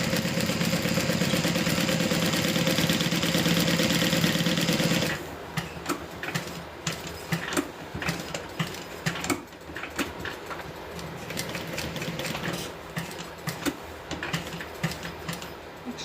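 A Juki 1181 sewing machine stitches a bag, running in a loud, steady whir for about five seconds, then giving way to scattered light ticks and clicks as the work is handled.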